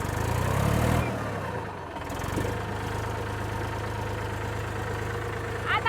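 A tractor engine idles steadily with a low, even rumble, after a brief louder burst at the start, in a village setting.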